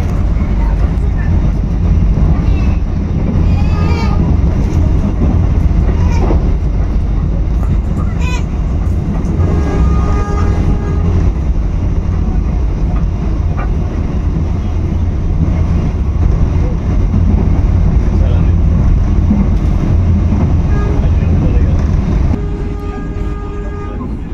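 The Ijen Ekspres train rolls along, producing a loud, steady low rumble and rattle with occasional thin metallic squeals rising over it, heard from on board throughout.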